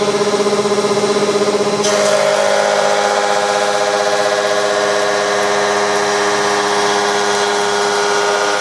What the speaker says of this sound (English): So next I'm planing the side walls and the inner walls